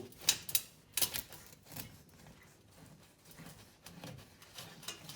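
A knife saws through a loaf of spelt bread, giving faint scratchy crust crunches in a few sharp bursts followed by softer rasping strokes, close and quiet.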